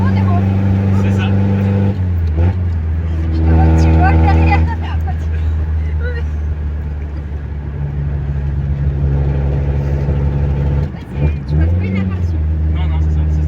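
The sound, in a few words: 1982 Toyota Cressida car driving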